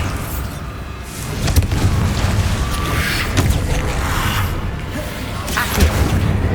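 Bombarda spell blasts in Hogwarts Legacy, dense continuous combat noise with repeated booming explosions and crashes layered over game music and effects.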